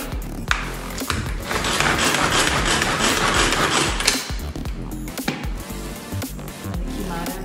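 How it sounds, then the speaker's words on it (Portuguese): A Turbo Chef blender whirring through mango for homemade popsicles, a loud steady motor roar for several seconds with rattling and knocking, then slowing into intermittent clatter and bumps as it stops. "Eu tenho aqui um de manga, que é só bater no seu Turbo Chef."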